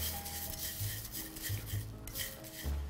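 A utensil stirs food in a pan in a home kitchen, making soft, repeated scrapes and light clinks that sound close but faint.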